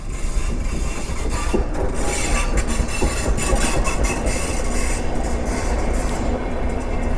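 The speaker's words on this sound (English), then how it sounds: "There's a local train. It's with loads of graffiti. Hey, 3 carriages." A three-carriage local train rumbles past close by on a single track in Andorra, a loud steady roar with rattling wheels and occasional squeals throughout.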